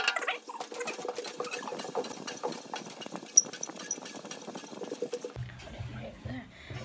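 A honey extractor spins frames of honey, a steady mechanical whir with fine rattling and patter close by, then a lower rumbling hum near the end; speech is faintly present.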